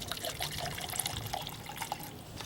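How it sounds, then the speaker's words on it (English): Rubbing alcohol poured into a cup for carburetor cleaning on a 30hp Evinrude outboard, a soft, faint trickling splash lasting a couple of seconds, close and quiet with no talk. "It's just rubbing alcohol and I put it in a cup"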